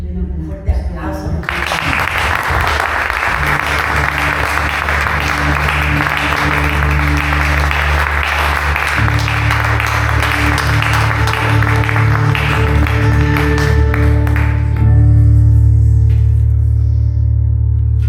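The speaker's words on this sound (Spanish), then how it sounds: "Un fuerte aplauso." Sustained applause from a church congregation, steady and loud, layered over held keyboard chords and music throughout.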